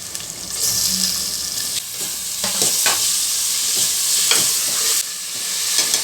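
Tomato fries in oil for moong dal sambar, a loud, close sizzle with repeated spoon scrapes and stirring strokes across the pan throughout.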